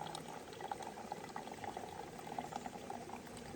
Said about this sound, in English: squeeze the water in, like that